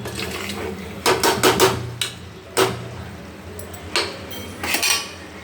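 A spoon scrapes and clinks against a cooking pot while mutton is stirred with coriander powder and shahjeera. The metallic knocks come in uneven bursts over a soft background, close by, with no talking.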